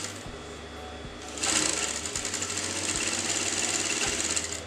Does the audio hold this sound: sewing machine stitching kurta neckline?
yes